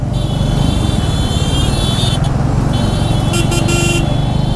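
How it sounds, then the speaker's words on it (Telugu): A vehicle horn blaring over and over on a highway during a motorcycle ride from Pune to Nashik, sounding loud and close above a constant roar of engine and road noise. "ఎవడ్రా వాడు ఒకే హార్న్ కొడుతున్నాడు"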